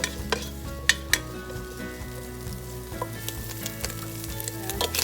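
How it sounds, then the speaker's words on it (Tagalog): Spam fries in a pan to render its fat, a steady close sizzle with clinks and scrapes of a utensil stirring the pieces, and no one talking. "piprituhin muna po natin ng konti itong ating spam. Para palabasin lang po natin yung kanyang mantika"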